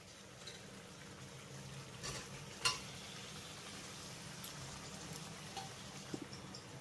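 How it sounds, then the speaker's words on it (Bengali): Fried pointed gourd pieces are stirred into sizzling spice masala in oil, producing a steady low frying hiss. Occasional soft scrapes and clicks of stirring sound close by, with no talk. "আর এই সময়টাতে আমি এর ভিতরে দিয়ে দেবো ভেজে রাখা পটলগুলো।"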